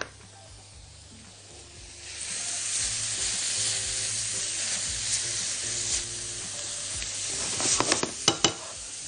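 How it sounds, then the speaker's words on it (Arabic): Onions sautéing in a restaurant pan for shrimp biryani start quiet, then break into a loud, hissing sizzle, with a few sharp stirring clatters near the end. "شوحنا البصل كويس جدا"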